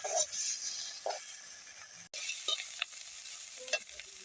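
Malabar spinach (pui) frying dry in a pan with onion, a steady crackling sizzle broken by scraping stirring strokes at irregular intervals and one sharp click midway; no one talks over it.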